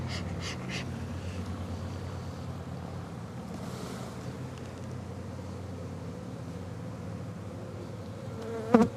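Honey bees buzz steadily in an open hive going into winter in a cold climate, a dense, even drone that fills the whole stretch with no voices.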